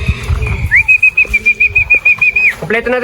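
Racing pigeons arrive home with close, loud, rapid rhythmic wing flaps, under a long steady high whistle that rises at the start and drops away near the end.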